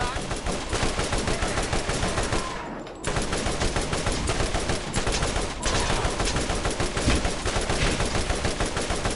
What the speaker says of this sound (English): This thing is like a literal fucking LMG.